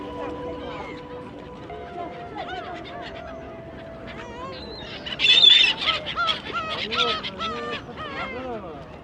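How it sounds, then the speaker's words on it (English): Gulls squawking over a Qingdao pier as tourists throw food to them: a flurry of harsh, overlapping honking calls that grows louder and busier midway, with crowd noise underneath. "a lot of people here are throwing food out there at the gulls, and that's what's making them go crazy."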